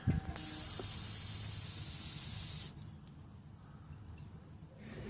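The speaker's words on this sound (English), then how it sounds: "it's highly advisable to spray a rust eater and clean it with a brush" A loud, close aerosol can of rust penetrant hisses steadily for about two seconds after a click, then cuts off, leaving quiet rustling.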